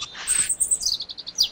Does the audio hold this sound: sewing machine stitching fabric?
no